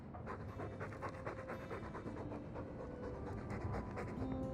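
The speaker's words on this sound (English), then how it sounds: "All that noisy dog breath, day in, day out." A dog companion pants heavily in Dragon Age 2, a steady run of quick rhythmic breaths, close and fairly loud, with no talking over it.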